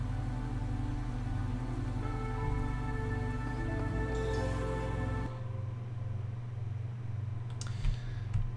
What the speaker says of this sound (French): Début de la tempête.